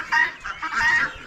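Ducks at an Amish animal auction, mostly drakes, give a short burst of close, loud quacking and honking calls with no talk over them.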